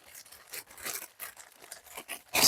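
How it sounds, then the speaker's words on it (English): Plastic cup packaging crinkling and rustling in a quick, irregular run of crackles, close and fairly faint, with a louder burst at the end. "sorry about the crinkling noise."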